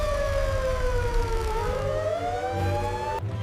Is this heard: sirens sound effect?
yes